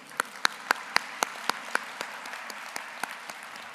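Audience at an event in Parma, Italy applauding organizers, with a few sharp, evenly spaced claps standing out close up over a softer spread of crowd clapping that gradually fades.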